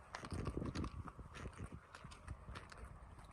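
A horse's hooves clip-clop steadily on a trail as it is ridden, the uneven footfalls close and continuous with tack creaks and soft background rustle.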